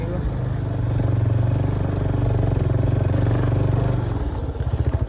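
A motorcycle rides along a narrow cattle lane, its engine rumbling steadily and close for most of the stretch, then easing into a choppier, pulsing idle near the end.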